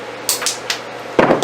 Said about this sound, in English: Then you just take the hammer